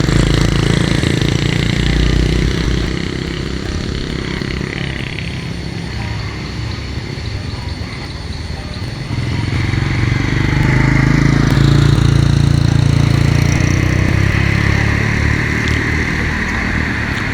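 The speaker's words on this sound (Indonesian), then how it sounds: "Ini ada suara-suara knalpot." Honda Win motorcycle exhaust rumbling steadily close by with a loud, continuous low engine drone that dips slightly midway then swells again, amid other traffic noise at a roadside bend.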